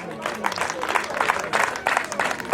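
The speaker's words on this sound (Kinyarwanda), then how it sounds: "bakumera amashyi" Wedding guests at a Rwandan ceremony clap for a couple, rhythmic bursts of hand-clapping in loose pulses, moderately loud and lively with some background voices among the crowd.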